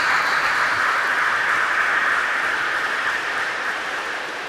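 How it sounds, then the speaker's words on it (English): A school auditorium crowd at a freshman orientation applauds for a chemistry teacher, a dense, steady wash of clapping from many hands that tapers off slightly toward the end. "go ahead, clap for Mrs. Pacheco."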